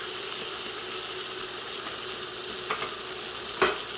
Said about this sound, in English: While this one is searing